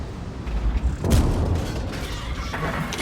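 A single heavy tank cannon boom in the video game World of Tanks, from an AMX 50 B, bursts out, followed by a rumbling tail and scattered battle noise, with no voices.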